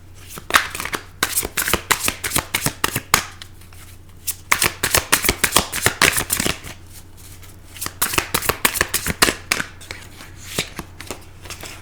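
Tarot cards being shuffled up close, in three long runs of crisp, rapid riffling flutters separated by short pauses, with a low steady hum underneath.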